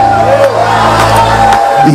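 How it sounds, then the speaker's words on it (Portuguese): Congregation at a church service shouting and cheering together, a loud, dense crowd roar with whoops over sustained tones, continuing throughout. "Quem pertence a esta igreja pode dar um grito tirado lá de dentro da alma"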